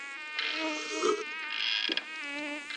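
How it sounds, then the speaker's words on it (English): A mosquito buzzes close to the ear, a steady high whine that wavers in pitch and loudness for a few seconds with no talk over it. "That gum mosquito's trying to carry me off."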